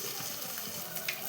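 Ginger and garlic sizzle steadily in a hot pan, a soft continuous frying hiss with faint scattered crackles and no voices.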